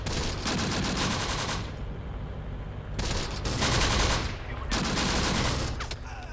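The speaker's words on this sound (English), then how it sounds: "there's obviously artillery someplace here, and it's giving me a hell of a time" Artillery fire in Close Combat The Bloody First roars in dense, sustained volleys broken by brief lulls. It sounds loud and near, with crackling blasts layered over a heavy low rumble.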